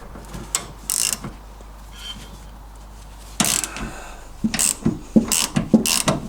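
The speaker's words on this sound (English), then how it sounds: "I've got a 5/8 socket here just for this trunnion bolt" A 5/8 socket ratchet works a trunnion bolt on an MGB suspension, giving scattered bursts of clicks and then a quicker run of rhythmic ratcheting strokes close by.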